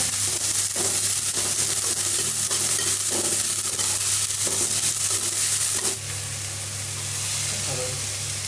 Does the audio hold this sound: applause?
no